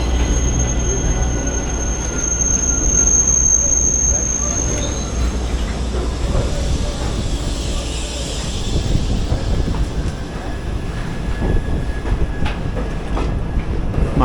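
Ernakulam Intercity Express rumbling steadily along the rails in aging coaches, with a continuous loud roar, rhythmic wheel clatter and occasional high squeal, heard from inside the train without talk.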